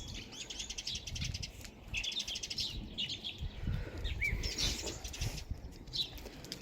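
Sparrows chirp under the eaves of a house roof in a steady series of bright, overlapping calls, fairly close, with faint rain and outdoor background noise and no talking.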